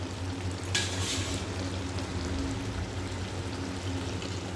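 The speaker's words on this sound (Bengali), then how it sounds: "এই যে মাছটা প্রায় রান্না হয়েই এসছে, আর একটু ফুটলেই নামিয়ে দেবো।" Fish curry simmers in a pan with a steady, soft bubbling sizzle that runs on without a break. One brief brighter crackle rises near the start, and nobody speaks.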